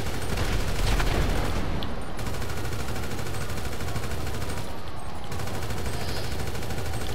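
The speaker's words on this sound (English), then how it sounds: "I'll just shoot him off his bitch ass bike." Rapid gunfire in GTA 5 aimed at a biker, a dense continuous fusillade of shots running steadily throughout at even loudness with no talk.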